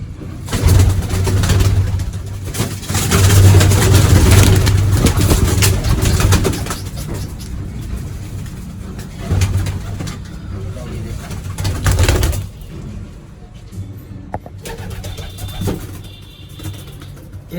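Pigeons at a pigeon keeper's loft coo in low repeated throaty calls, mixed with someone talking nearby and faint passing vehicle noise in the background.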